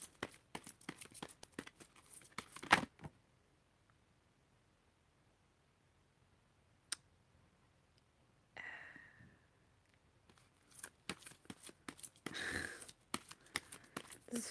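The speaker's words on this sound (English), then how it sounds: "I haven't shuffled in front of you in ages." Tarot cards being shuffled by hand in a quiet room: crisp bursts of riffling clicks at the start, a long hush with a single snap, then a soft slide and more clustered card flutters toward the end, all close and fairly faint.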